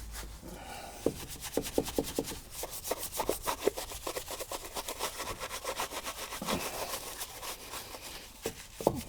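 A brush scrubs car wheel rims coated in GS27 Titanium rim cleaner on an SLK 350, giving quick repeated bristly strokes, close and fairly soft, in an uneven rhythm.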